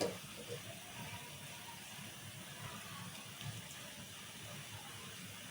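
Steady splashing of water being poured into a mixer jar to rinse it, a continuous hissy rush with no talking, moderately close and fairly quiet.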